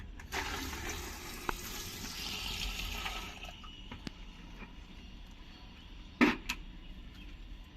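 Water runs from a tap into a betta fish tank in a steady broadband rush during cleaning, fading after a few seconds, followed by quiet and a brief louder splash near the end.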